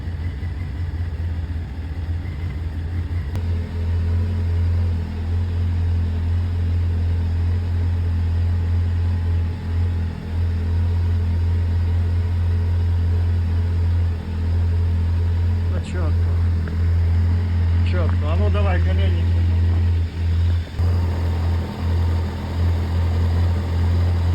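A Honda CBF600N motorcycle engine idles cold during carburettor synchronisation, a steady low rumbling drone running throughout with a voice speaking over it.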